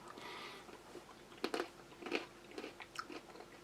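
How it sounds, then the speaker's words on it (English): Salted pretzels mixed into a U.S. Army MRE beef stew are bitten and chewed, a few close, quiet crunches in an irregular rhythm, with no talking. "I'm going to try a couple, just give it a little bit of crunch."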